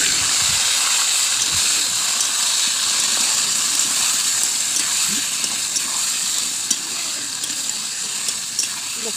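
Marinated chicken hits hot oil seasoned with cinnamon, garam masala and cardamom, giving a loud, continuous close hiss of sizzling that holds steady for several seconds, with small crackles and pops scattered through it.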